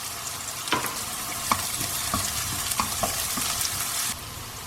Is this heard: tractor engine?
no